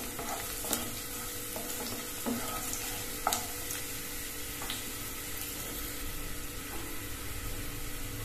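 Onion, garlic and cumin fry in oil for chilli idly, a quiet steady sizzle with a few soft clinks of a spoon stirring the pan, no voices.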